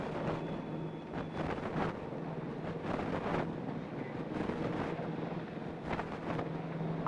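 Boat engines idling slowly at sea, a faint low rumble under wind buffeting and water wash, steady throughout with no speech.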